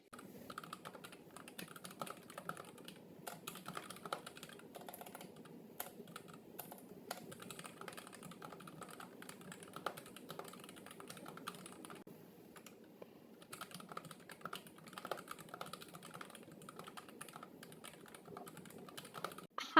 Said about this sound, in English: let's hear how it sounds like when we're going to type